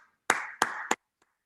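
During a children's rhythm exercise, three crisp hand claps land evenly spaced and close, followed by a faint fourth tap and silence marking a rest.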